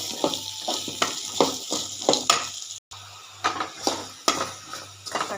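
Tomatoes dropped into a hot pan while making tomato chutney, with sizzling and repeated clinks and scrapes of a spoon stirring against the pan, close and brisk.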